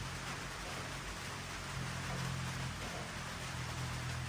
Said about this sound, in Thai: ตอนนี้ฝนตก ดูถ้าเหมือนฝนจะตกหนักขึ้นนะครับ